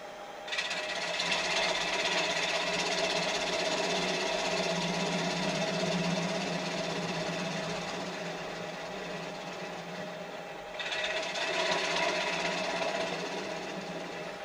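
A power sander runs with a buzzing, rattling whine, stops briefly near the end, then starts again; close and steady, no talking.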